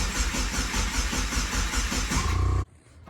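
A Subaru STI engine swapped into a Forester cranks over on the starter with a rapid, rhythmic chugging beat, loud and close, then cuts off abruptly near the end, leaving near silence.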